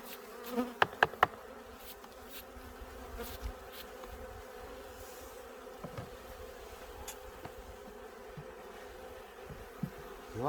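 Honeybees buzzing around forest apiary hives while a beekeeper works, a soft, continuous drone with a few brief close passes and light handling knocks, no speech.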